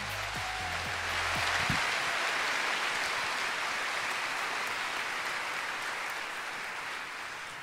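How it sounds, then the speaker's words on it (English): Audience applause at an evening fashion show, a dense sustained clapping that swells and holds for several seconds after a brief low hum at the start. "Let's give a round of applause to the second half of the show this evening."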